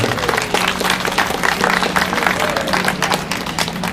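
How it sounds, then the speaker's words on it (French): A crowd applauds steadily at a peace and unity march in Montreal, dense clapping holding at an even level throughout with a faint murmur of voices underneath. "Oui, on peut les applaudir"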